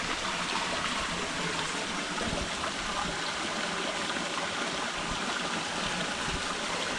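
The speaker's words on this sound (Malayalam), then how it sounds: "ഇതിൻ്റെ അടിയിൽ നിന്നാണ് ഇനി വെള്ളം വരുന്നത്." Water flows up into a deep pool from an inlet below it, at a site in Oman, giving a steady, close, rushing trickle with no pauses and no talking.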